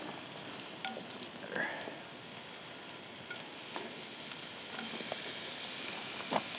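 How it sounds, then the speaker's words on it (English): Bacon frying in a hot cast iron pan at a riverside camp, a steady crackling sizzle with scattered pops and spits, faint and close, without talking. "Get some bacon going. Get some nice grease in the pan."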